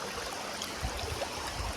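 Stream water flows down from above near a lake, making a steady, close rushing and trickling sound that runs throughout the short moment without a break.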